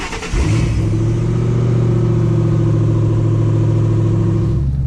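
A Ford Mustang GT engine cranks and fires, then settles into a loud, deep, steady rumble close by, holding a high idle with no talk over it.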